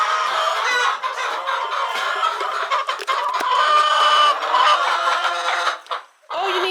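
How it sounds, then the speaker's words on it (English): A flock of chickens clucks and squawks continuously nearby, a busy overlapping chatter that briefly drops off near the end. "We're going to check the chickens."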